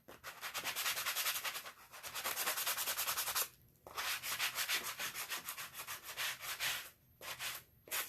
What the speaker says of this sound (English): I'm going to sand it just a little bit